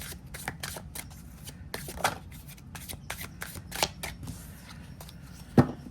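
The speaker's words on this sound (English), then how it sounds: "So what I want to do here is shuffle it up really good" Oracle cards with linen cardstock are shuffled in quick riffling bursts with soft slaps and flicks, close and fairly quiet, with a sharper tap near the end.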